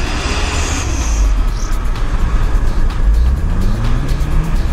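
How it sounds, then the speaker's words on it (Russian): A two-litre Renault Duster 4x4 drives over hard, dense snow crust. The engine drones loud and close with a rumbling low end and rising pitch as it pushes along. "Дастер двухлитровый. Вот он, пожалуйста, смотрите. Без каких-либо имитаций идет"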